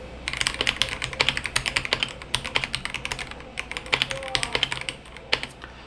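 Rapid typing on an INPLAY SK960 full-size keyboard, dense clicky keystrokes in quick bursts with short pauses, close and clear, no talking.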